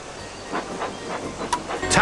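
Thomas the tank engine chugs along in the Magic Tracks game, a rhythmic puffing of steam bursts with soft hissing, ending in a brighter whistle-like burst; short, close and moderately loud.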